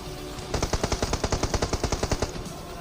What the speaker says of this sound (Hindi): तो यहाँ पे मेरे पीछे से भी फायर हुआ था।